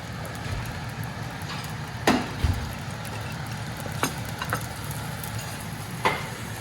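Crab and Chinese sausage egg fried rice sizzling steadily in a pan, with occasional scraping clinks of a utensil stirring it, close and continuous.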